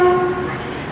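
A Northern Trains class 158 diesel unit sounds its horn as it departs Nottingham for Leeds, a loud, steady two-tone blast that cuts off midway and leaves the rumble of the moving train.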